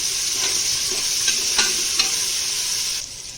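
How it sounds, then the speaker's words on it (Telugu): Masala spices for methi pulao stirred and fried in a pan: a loud continuous sizzle with a few scraping spoon strokes, close up, easing off at the end. "ఒకసారి బాగా కలిపేస్తున్నాం. ఇవి ఈ మసాలా మొత్తము పచ్చి వాసన పోయిన వరకు బాగా కలుపుతున్నాము."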